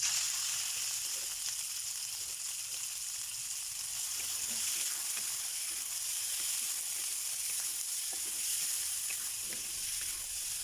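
Pork fries in a pan for pinakbet, with a steady, loud, continuous sizzle and hiss throughout, plus occasional soft stirring scrapes.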